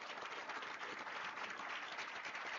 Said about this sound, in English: huge round of applause for our panel.